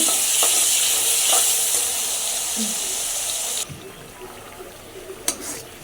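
Curry with green chillies and onion cooking in a pot, starting as a bright steady sizzle with a few stirring knocks. It drops suddenly to quieter background with a sharp clink or two near the end.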